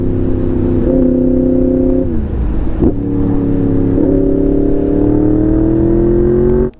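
Yamaha MT10 crossplane four-cylinder motorcycle on its stock exhaust revs close by in a smooth, sustained drone that dips twice and climbs again, then cuts off abruptly at the end.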